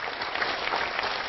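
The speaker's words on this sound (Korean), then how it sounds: "자, 일단 박수가 나오는데 여당 쪽에선 나오고 야당에선 소리가 잘 들리지 않는 모습." Steady applause from lawmakers in the Korean National Assembly during a presidential budget address, a dense, even clatter of clapping over a brief stretch with no talk.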